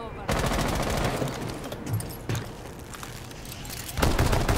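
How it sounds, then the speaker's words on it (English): Gunfire in a Rainbow Six Siege match comes as loud, rapid, dense bursts that run nearly nonstop, with a brief lull and a fresh burst at the end. "She's got a shotgun."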